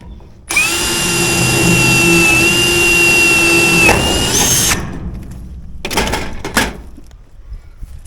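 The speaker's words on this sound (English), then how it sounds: "And now I'm just drilling through that tag." An electric drill whines loudly and steadily for several seconds as it bores through a metal gutter stop end, then stops, followed by a few brief clunks and rattles.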